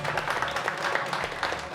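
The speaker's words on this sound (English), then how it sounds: "a big round of applause to those guys" A meetup crowd gives a round of applause, with brief moderate clapping that sounds somewhat distant and dense and holds steady throughout.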